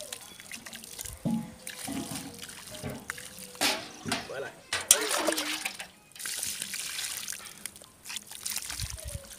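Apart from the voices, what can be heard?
watering a freshly repotted grafted orange tree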